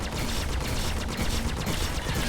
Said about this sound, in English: I could just hear that firefight going on outside.